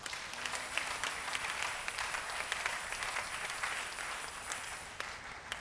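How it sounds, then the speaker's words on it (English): Church congregation claps together during a praise service, a dense steady wash of applause with occasional sharper hand claps standing out. "Can we clap for Jesus?"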